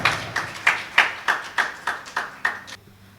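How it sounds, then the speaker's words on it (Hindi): At a mushaira, a small audience gives a few rhythmic claps of welcome for a poet, about nine distinct, fairly close claps in steady succession before they stop. "जोरदार तालियों से इस्तकबाल करें मोहतरमा"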